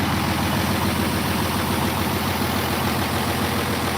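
Engine idles steadily with its muffler fitted, a constant loud, close, even rumble with no change in pitch or pace and no voices.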